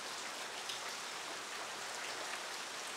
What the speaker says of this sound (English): and the rain persists